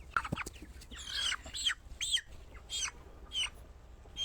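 Broiler chickens around 29 days old on a poultry farm, clucking and squawking in a string of close, bright calls over a low steady hum, with no voices.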